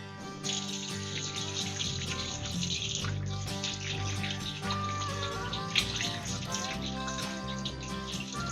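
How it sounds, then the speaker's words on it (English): Tap water runs steadily into a sink while hands are washed, a continuous splashing hiss at moderate level with small spatter and drip accents, heard alone without talk. "I'm going to wash my hands real quick"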